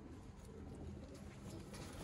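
Sialkoti rooftop pigeons coo faintly and continuously beneath a steady hiss of background noise, with no voices.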